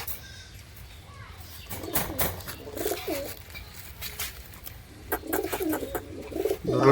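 Pet pigeons of the Lakka and Giribaz breeds coo in soft, repeated throaty bursts close by, with a few sharper calls and faint rustling between them.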